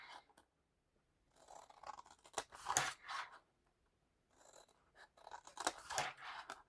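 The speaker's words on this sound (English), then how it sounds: "So I'm literally using my longer scissors because then I can just do one cut." Long scissors slice along score lines on paper card for a bottle bag, two separate bursts of crisp snipping and crunching, close and fairly faint, with a quiet pause between them.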